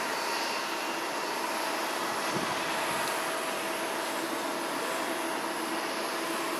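An Airbus A340 government jet at Haneda Airport, a steady distant engine roar and whine holding evenly throughout, heard alone without voices.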